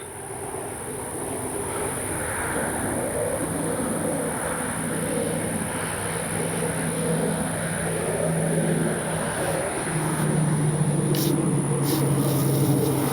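An Avios Kobuz RC plane on its landing approach with flaps lowered, its electric motor giving a steady, continuous whine that holds level and strengthens slightly near the end, with wind noise and no talk.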